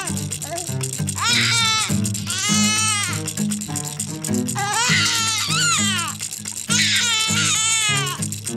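An infant cries in repeated wailing bursts, loud and close, over a steady background of music, with an adult voice speaking softly nearby.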